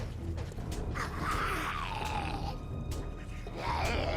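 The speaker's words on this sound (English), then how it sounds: "Sounds like someone's munching on one of the piggies," Growling, grunting creature sounds from the zombie survival video game 7 Days To Die, a creature feeding on a pig, with wet guttural noises rising and falling over steady game ambience across the clip.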